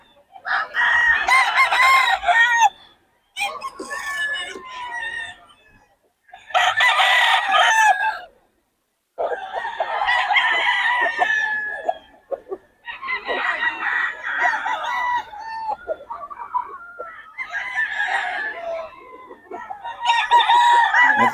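Several roosters at a chicken market in Bocaue crow one after another, loud and close, each long call separated by short pauses.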